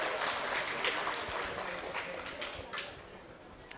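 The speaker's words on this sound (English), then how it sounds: "Give her a big round of applause." Audience at a university event gives a round of applause, a broad wash of clapping heard at moderate distance that holds steady and fades slightly toward the end.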